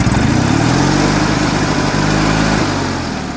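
A Kohler Command engine being choked and started, giving a loud, steady low engine drone that runs throughout and eases slightly toward the end, with no talk over it.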